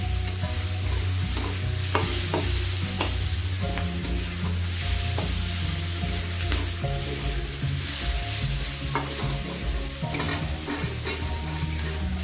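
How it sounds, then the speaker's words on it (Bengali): Tomato, onion and garlic sizzle in a pan for a mutton fry, with repeated stirring scrapes over a constant close frying hiss and no voices. "তো কিছু সময় ধরে আমি টমেটোটাকেও পেঁয়াজ রসুনের সাথে ভেজে নিলাম।"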